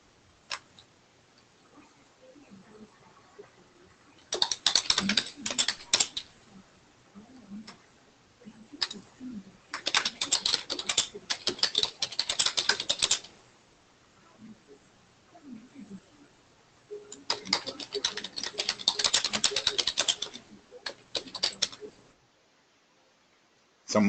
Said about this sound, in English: Someone's hard at work typing.